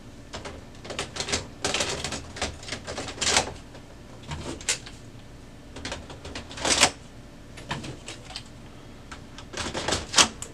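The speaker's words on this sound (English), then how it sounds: "We're just going to carefully put them back in the machine." Toner cartridges and drums are slid back into a Brother HL-L3210 printer, giving irregular plastic clicks, knocks and scraping bursts spread through the clip, fairly close and alone.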